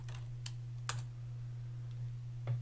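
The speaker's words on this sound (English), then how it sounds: "I'm just going to type in background." Typing on a computer keyboard, a handful of sparse, light key clicks spaced irregularly, quiet and close over a steady low electrical hum.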